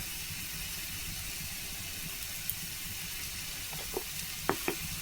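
Papaya pieces fry with prawn legs in a pan as turmeric goes in, giving a soft, steady sizzle with a few light scraping and clinking stirs toward the end.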